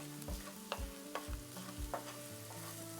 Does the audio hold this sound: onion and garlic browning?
yes